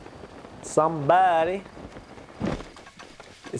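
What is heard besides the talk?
rain in a video game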